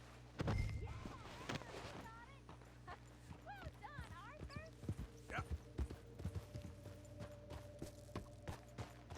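A horse's hooves clip-clopping in Red Dead Redemption 2, steady rhythmic thuds under game music and voices, with a few dog-like yips mixed in.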